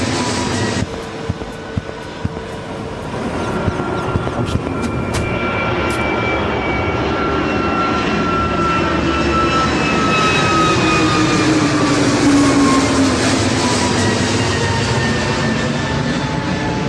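A passenger airplane's engines roar loud and continuous in an AI-generated crash scene of a flight out of Mumbai, with a steady whine gliding slowly in pitch as the noise builds, with no voices.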